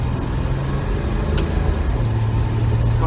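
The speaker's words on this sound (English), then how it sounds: "at least the car is actually running, which is a good thing" A 1966 Dodge Dart GT barn find runs steadily after hesitating, its engine giving a rough, constant low rumble close by with no talk over it.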